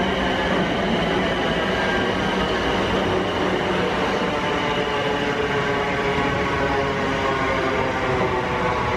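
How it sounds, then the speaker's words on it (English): A train rumbles steadily past close by at Winchester, a continuous loud roar of wheels and carriages with no voices. "this is the last train you'll see that's come in and out of Waterloo."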